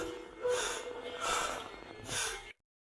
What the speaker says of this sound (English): A lot of heavy breathing going on.